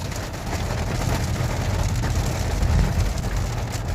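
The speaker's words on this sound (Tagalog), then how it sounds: "Lakas ng ulan." Heavy rain pours down in a steady, dense hiss that grows slightly louder near the end, with no voices over it.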